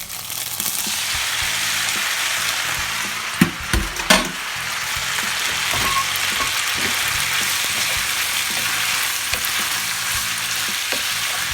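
Freshly strained spaghetti is tipped into a hot pan of oil, garlic and chilies and sizzles loudly and steadily, with a couple of sharp clanks near the start and no talking.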